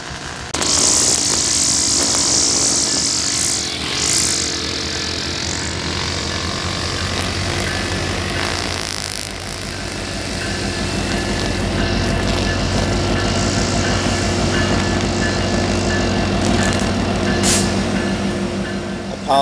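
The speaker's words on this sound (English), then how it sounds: "Apologies for the noise from the pressure washing in the background" A constant mechanical drone and hiss runs throughout, like a motorized pressure washer working nearby, with occasional higher whining sweeps over the steady noise.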